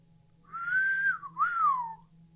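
A man whistles two clear, sliding notes, the first rising and held, the second swooping down, close and alone over faint background hum.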